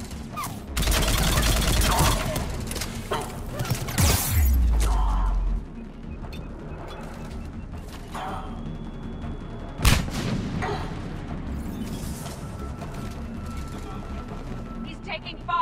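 Bursts of sci-fi gunfire and heavy weapon blasts from the video game Mass Effect 3, loud and close, with sustained volleys early and a sharp impact later, while voices shout over the combat.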